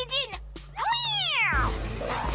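A cartoon cat lets out a short meow and then a longer, rising and falling yowl, loud and close, followed by a burst of noisy action sound.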